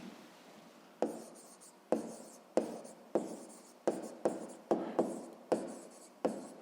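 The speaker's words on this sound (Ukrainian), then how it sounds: "Ну що ж, записуємо відповідь." A pen writes an answer by hand on paper during a sixth-grade math exercise, about ten crisp scratchy strokes in an irregular rhythm, close and quiet, with no talking.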